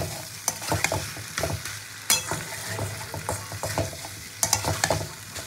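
Young jackfruit fried with spices in a pan, stirred vigorously so a spatula scrapes and clacks repeatedly against the metal over a steady close sizzle.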